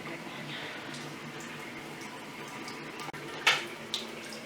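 Tap water runs steadily over a penguin-shaped mug being rinsed in a sink, a continuous close splashing wash with a brief clunk near the end.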